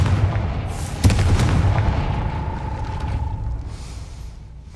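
A Confringo blasting spell goes off in the Hogwarts Legacy video game, aimed at a gate: one sharp, loud boom that fades into a lingering rumble and ringing tone over a steady game ambience.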